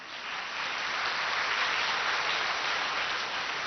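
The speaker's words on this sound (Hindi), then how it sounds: "भले ताली बजाओ।" An audience at a spiritual talk claps in a steady, dense wash of applause that holds at an even loudness for several seconds.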